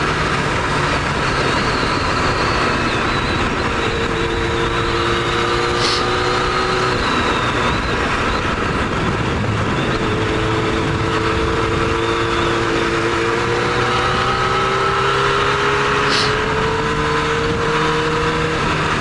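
A 1999 Yamaha R1 sport bike ridden hard on a cold, bumpy, unfamiliar road in Japan, heard as a continuous engine drone with heavy wind rush and shifting pitch throughout, with no talking.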